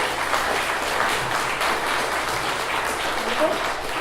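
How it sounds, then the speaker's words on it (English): An audience at a One Million Cups community gathering claps in a steady, even round of applause that carries through the whole moment without pause. "Let's give a round of applause for Carl."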